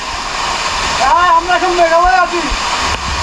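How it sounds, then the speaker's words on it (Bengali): A waterfall in the Panchgaon area of Kalmakanda, Netrokona, roars with loud, steady rushing water close by, while a person speaks briefly over it. "ঝর্ণাটি খারাপ না, মোটামুটি ভালো আছে, আর ভালোই পানি আছে"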